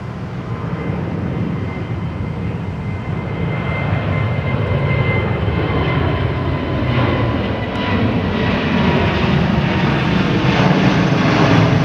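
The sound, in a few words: airliner going around, climbing away from Heathrow runway 27R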